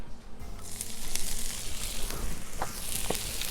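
Chopped onion and garlic sizzle on a Blackstone griddle, a loud steady hiss of frying with scattered crackles and pops throughout.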